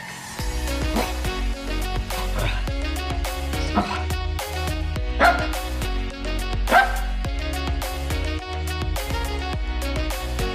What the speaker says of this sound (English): We're gonna watch a video of my dog Aika